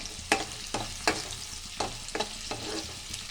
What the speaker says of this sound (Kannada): ಅದನ್ನು ಸ್ವಲ್ಪ ಚೆನ್ನಾಗಿ ಫ್ರೈ ಮಾಡ್ಕೋಬೇಕು ಎಣ್ಣೆಯಲ್ಲೇ.